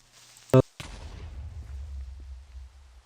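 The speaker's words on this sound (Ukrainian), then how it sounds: "Підірвалася вся наша база." A sharp, loud blast followed by a second burst, then a low rumbling roar that lingers and slowly fades: a Minecraft explosion destroying a base.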